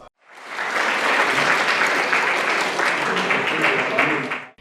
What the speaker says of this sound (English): sparking a moment of applause from the audience